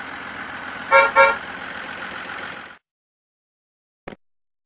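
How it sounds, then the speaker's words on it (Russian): A bus horn gives two quick honks over a steady engine rumble, then the engine sound stops abruptly and a brief click follows. "Автобус."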